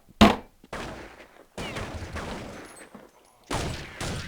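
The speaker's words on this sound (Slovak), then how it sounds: "Ja som iba strelil do krabice a som ťa zabil" Counter-Strike gunfire crackles in sharp bursts: a loud opening shot, then several short volleys separated by brief silences, close and punchy.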